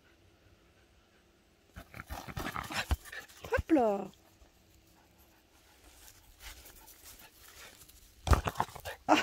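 A female dog pants and whimpers while playing with a ball on a rural property, breathy bursts and short yelps coming close by between stretches of a person talking to her.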